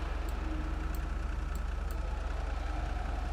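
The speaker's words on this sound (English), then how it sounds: "Engine, rev it up." Yosemite 1500 pickup truck engine in GTA5 Online, a steady low idling rumble with a regular pulsing throb, moderately loud and unbroken throughout.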